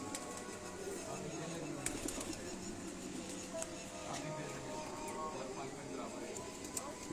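Soft, repeated cooing comes from Lakha breed pigeons kept at a rooftop loft. The birds are faint beneath people talking nearby.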